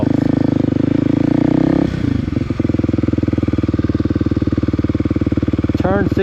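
A motorcycle engine idles loudly and steadily nearby, with a brief change in pitch partway through and a rider speaking over the running engine.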